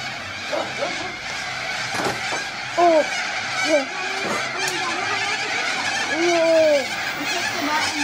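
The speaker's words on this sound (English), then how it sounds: "Hear the birds." A few short, bright bird chirps come and go over a steady buzzing background hum.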